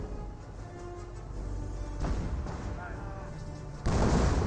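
Artillery shells from a decoy barrage in the Company of Heroes strategy game boom and crackle in a dense, continuous wash, with a sharper, louder burst near the end.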